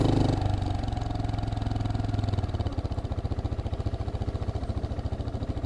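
A Geon X-Road light 250 motorcycle idles close by in city traffic, its engine settling into a steady, even pulsing thump after a brief rougher start.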